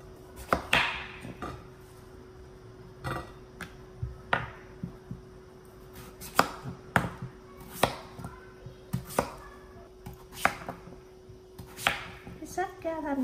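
A kitchen knife chops peeled bottle gourd into big chunks on a cutting board, about a dozen sharp, separate thunks at an uneven pace, close up, with a faint steady hum beneath.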